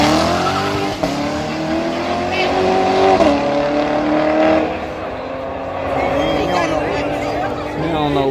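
A nitrous-equipped drag racing car at the Yello Belly Drag Strip roars loudly with a strong, rising engine note and some tire noise, with people talking over it.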